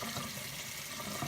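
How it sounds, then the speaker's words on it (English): Tap water running steadily over a block of clear ice, a brief, faint, continuous splashing with no voices. "Run some water over it, it goes clear all over again."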